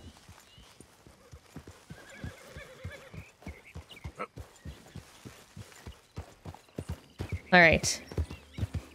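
Steady clip-clop of horse hooves walking close by in Red Dead Redemption 2, with a loud horse whinny near the end and a few brief words spoken.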